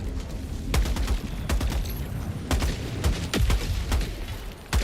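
Rapid gunfire bursts from a deployed sentry turret in a cooperative shooter game, with loud sharp shots repeating in irregular clusters over a dense background of explosions and battle noise.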